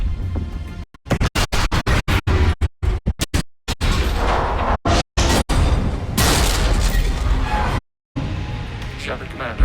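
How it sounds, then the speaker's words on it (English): A fleet of ships opens fire in the Mass Effect 3 video game, with rapid bursts of loud booming weapon blasts, heavy explosions and sweeping energy noise, mixed with short silent gaps and voices under the barrage. "All ships, open fire!"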